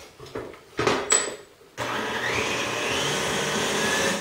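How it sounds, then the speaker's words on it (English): Electric mixer beating softened unsalted butter at medium-high speed for cupcakes, a steady loud whirring drone that starts abruptly after a few short clattering sounds and runs continuously. "I'm just going to dump that right into the machine, and I'm going to beat it at medium-high speed for a couple of minutes"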